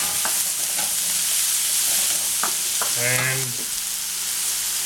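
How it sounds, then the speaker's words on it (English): Okra hits a hot pan for a veggie stir fry with halloumi and chicken, setting off a loud, steady frying sizzle that holds for the whole stretch, with a brief clatter of utensils and one short spoken word. "I'm just going to add the okra now."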